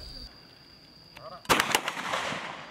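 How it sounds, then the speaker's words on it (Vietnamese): K54 pistol fire at a militia shooting contest: a sharp report followed by a burst of several quick cracking shots with echo, loud and close, after a quieter lead-in. "các thí sinh đã tham gia nội dung thi bắn súng K54 bài 1C"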